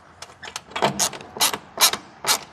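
A wrench snugs 13 mm air line fittings during a suspension air bag install, giving a string of short metallic ratcheting clicks in uneven bursts, close and fairly quiet, with no talk.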